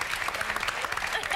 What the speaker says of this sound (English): Mick Fleetwood, give him a round of applause for coming in.